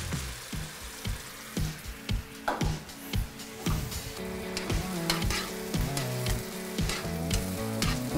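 A tomato sauce for braised elk shoulder bubbles and spits in a pot, with a steady run of wet pops and splutters over a constant simmering hiss, close and without speech.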